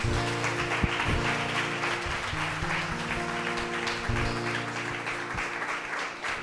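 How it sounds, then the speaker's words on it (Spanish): A church congregation applauds during a Spanish-language worship service, steady clapping running under sustained keyboard or organ chords for the whole stretch. "Dele ese aplauso al Señor."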